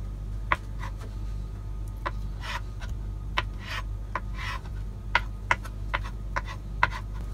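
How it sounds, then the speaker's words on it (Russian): Knife dicing boiled eggs into cubes on a cutting board for a smoked mackerel Olivier salad, giving a run of sharp, separate taps at an irregular pace, close and fairly quiet over a steady low background hum. "Также кубиками мы измельчаем яйца."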